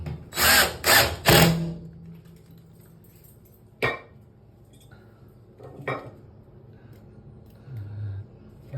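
A power drill drives screws in three quick loud whirring bursts close by, followed by a couple of sharp knocks and a softer rattle of hardware.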